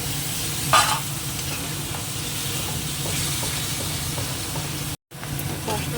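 Spice masala being stir-fried in a pan, with tomato paste about to go in: a dense, constant sizzle under repeated spatula scrapes, briefly cutting to silence near the end before resuming.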